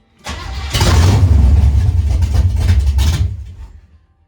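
A carbureted junker V8 fires up after two pedal pumps: a brief cranking whir, then a loud, close, rumbling catch that runs rough for a few seconds before fading out as it dies.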